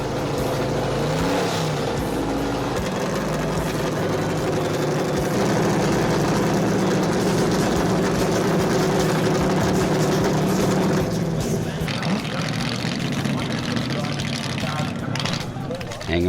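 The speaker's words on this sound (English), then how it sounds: "And this is the sweet sounds of Bob James Camaro." A Chevrolet Camaro race car at a 2008 muscle car event runs its engine on the dummy grid, producing a loud, continuous, deep rumble with revving swells. Voices are audible under it throughout.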